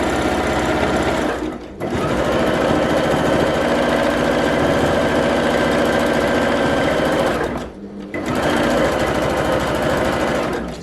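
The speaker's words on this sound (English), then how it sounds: "I'm going to do some sewing literally in the ditch" A sewing machine stitches in the ditch along the seams of a quilt, running loud and steady close by, with two brief pauses where the stitching stops before it starts again.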